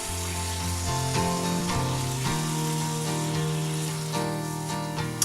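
Minced garlic sizzles steadily and loudly as it is stirred around a hot pan, a continuous close frying hiss that goes on without a break.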